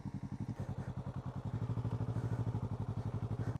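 A motorcycle being ridden gives off a steady, rapid thumping engine pulse that grows a little stronger midway, heard close and on its own.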